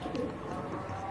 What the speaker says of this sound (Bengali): পায়রাগুলো